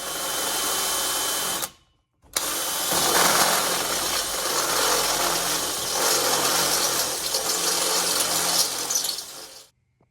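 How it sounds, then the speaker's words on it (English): A power drill whines loudly and steadily, drilling holes in metal for a car exhaust, stops briefly, then resumes drilling for several more seconds before cutting off. "Then we're going to drill holes"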